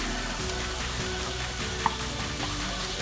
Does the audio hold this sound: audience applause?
no